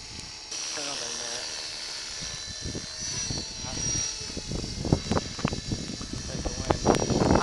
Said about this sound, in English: You can probably hear so much air turbulence.